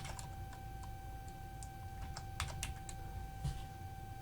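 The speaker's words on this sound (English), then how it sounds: "So all I've got to do is just type these in this way" Numbers tapped in on a computer keyboard, a quiet run of irregular, separate key clicks close to the microphone with a steady electrical hum underneath and no talk.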